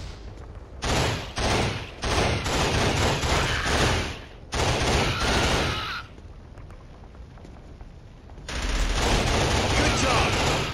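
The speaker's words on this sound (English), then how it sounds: "Machine gun!" Gunfire crackles in the first-person shooter Killzone on PS3, dense bursts of shots ripping in clusters with short gaps, a quieter stretch, then another heavy volley.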